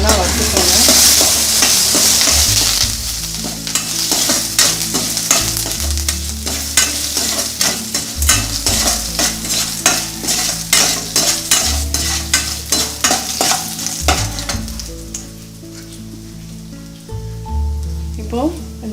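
Curry leaves and asafoetida sizzle loudly as they fry in a pan for a tempering for raw banana poriyal, with a spoon scraping and stirring through the crackle and a low steady hum beneath.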